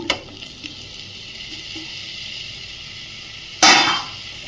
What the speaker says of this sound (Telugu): మష్రూమ్స్ని ఒక టూ మినిట్స్ ఫ్రై చేసుకుందాము